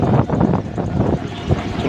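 Helicopter landing at a political rally ground, a loud continuous rotor and engine roar with gusty wind buffeting, steady and close throughout.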